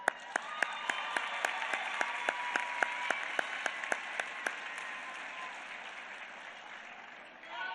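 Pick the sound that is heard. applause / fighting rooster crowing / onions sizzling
applause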